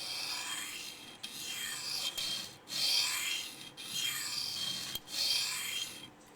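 A Les George VECP knife blade is drawn across a sharpening stone in long, even strokes, about five passes separated by brief pauses. The rasping scrape is close and fairly quiet, with no voices.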